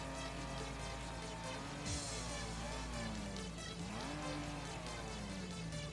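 A steady Volvo five-cylinder engine drone in Forza Horizon 5, with shifting harmonic tones that rise and fall as revs change, continuous and fairly loud throughout.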